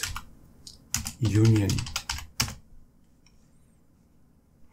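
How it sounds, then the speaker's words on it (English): Someone types on a computer keyboard, entering a search term in a web browser's search bar: a few scattered key taps, then a quick cluster of clicks, with a brief spoken word mixed in before it falls quiet. "And then in your search bar, type in boost"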